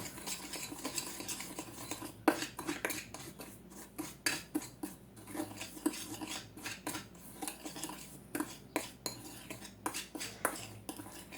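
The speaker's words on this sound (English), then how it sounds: "I'm just going to take the measuring spoons themselves, mix it together real well, get all the lumps out" Measuring spoons stir and mix homemade Cajun seasoning in a bowl, giving rapid, irregular metallic clinks and scrapes close up, continuing steadily throughout without talk.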